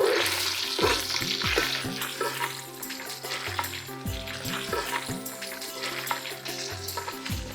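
Pieces of rohu fish frying in a pan over a village cooking fire, with a busy crackling sizzle and frequent stirring scrapes, close and steady throughout.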